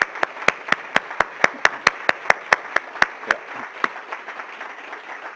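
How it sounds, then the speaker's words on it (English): Clapping from a lecture audience thanking surgeons in global reconstructive surgery, sharp, evenly spaced claps in a steady beat that slows and thins out toward the end, with a brief voice near the start. "we'll give you a round of applause"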